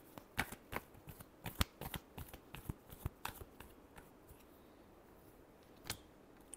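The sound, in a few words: shuffling tarot cards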